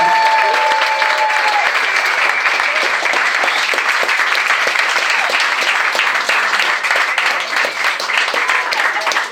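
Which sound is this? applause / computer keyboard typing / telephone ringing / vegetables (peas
applause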